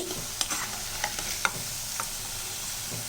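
Rava bonda frying in hot oil, a continuous crackling sizzle broken by light clinks and scrapes as the fritters are turned and lifted out.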